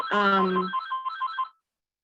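A phone ringtone goes off during a board meeting: a short melodic electronic chime that rises briefly over a voice, then cuts off after about a second and a half.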